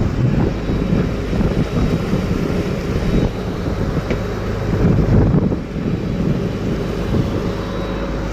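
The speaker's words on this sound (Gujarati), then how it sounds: "બહુ પવન છે" Continuous heavy wind roaring over open sea with rain setting in, a dense low rumble that swells and eases slightly but never stops.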